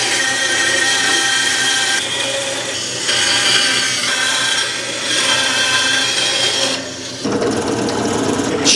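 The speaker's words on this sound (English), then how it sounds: "next we need to cut this into a circle" Wood being cut into a circle in a workshop with a power tool, a loud continuous rasping buzz that surges and dips in several passes before a short pause and a final burst.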